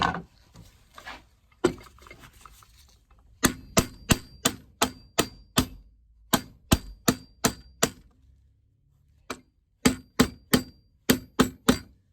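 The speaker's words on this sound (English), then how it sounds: "Don't want to hammer it too much." Sharp metallic hammer taps on a small part of an old lock, struck in quick rhythmic runs with short pauses between, close and crisp.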